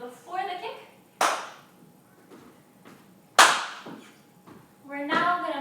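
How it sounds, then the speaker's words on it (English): A few sharp hand claps land alone, spaced irregularly across a dance lesson, with a voice talking quietly between them. "we've started clapping on the kicks"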